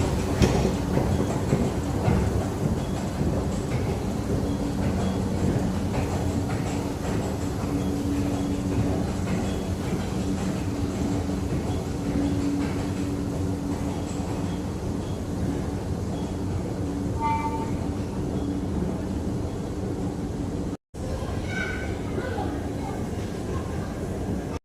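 Underground tram station inside a tunnel in Gothenburg, Sweden, with a steady loud rumble of rail traffic and reverberant station ambience throughout, plus a few faint tonal chimes near the end.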